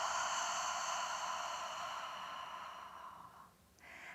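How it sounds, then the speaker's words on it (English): Deep yoga breathing, a long drawn-out airy exhale that fades before a fresh inhale begins, close and soft with no voices. "So nice deep inhales. And exhaling."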